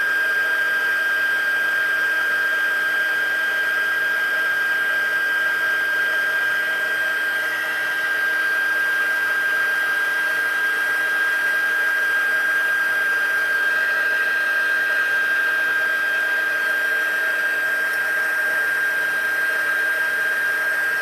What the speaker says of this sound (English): bring out your heat tool. We're going to heat this up.